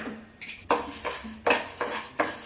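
Moong dal dry-roasting in a pan for khichdi, heard as a few distinct scraping and clinking strokes of a spoon against the pan with brief dry rattles between, close and moderately loud with no voices.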